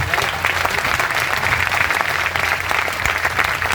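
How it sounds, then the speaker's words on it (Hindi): Crowd applause at a clerks' protest gathering in Hisar: dense, continuous clapping from many hands, loud and sustained throughout with little variation. "एक विभाग के लिए आप जोरदार तालियां बजाओ"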